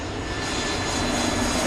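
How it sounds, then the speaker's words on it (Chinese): Airplane engine noise plays during a children's Mandarin lesson on transportation, a loud, steady roaring drone that holds evenly throughout with no voices. "叫飞机，跟着老师读飞机，飞机"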